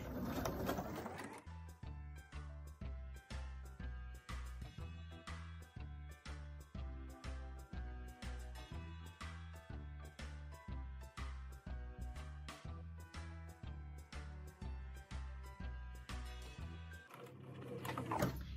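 A domestic sewing machine stitches through quilt layers, its needle hammering in a fast, steady mechanical rhythm with brief pauses where the fabric is turned, loud and close, with no talking over it.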